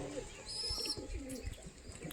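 Pigeons feeding on scattered grain coo and chirp softly, faint and close, over low pecking and rustling, with no talking.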